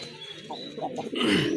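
A pair of large Rajgolla pigeons gives a few soft, low coos close by, followed by a short burst of rustling.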